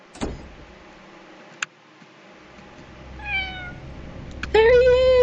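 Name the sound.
cat meowing in a video game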